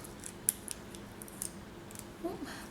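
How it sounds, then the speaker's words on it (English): Scissors snip a glue dot from its pack during a Christmas snowflake craft, giving one sharp close cut followed by faint clicks and light handling noise in a quiet room. "I'll cut one off the pack"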